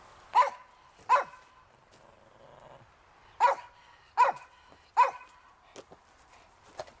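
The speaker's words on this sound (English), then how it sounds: "He's got to bark while we're here." A dog barks in a garden during rose bush removal, five sharp, fairly close barks spaced irregularly over several seconds, with a couple of fainter yips near the end and no talking over them.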